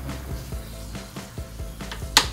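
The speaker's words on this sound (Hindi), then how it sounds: "अब हम इसमें थोड़ी सी रेड चिली डालेंगे।" Red chili dropped into hot tadka oil for Punjabi kadhi gives a steady close sizzle with soft stirring knocks and a sharp hissing burst near the end; no talking.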